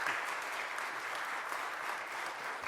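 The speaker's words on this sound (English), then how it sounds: "Give him a round of applause" A steady round of applause from the audience as Philadelphia mayor Jim Kenney is introduced, even continuous clapping at moderate level from a sizable crowd, with no speech over it.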